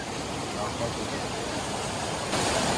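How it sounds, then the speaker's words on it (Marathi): A fast monsoon rainwater stream near a hidden waterfall in Virar rushes with full force, a dense, constant roar of flowing water close by, growing slightly louder near the end. "इथे फुल वाहतं पाणी, फुल फोर्स आहे पाण्याला."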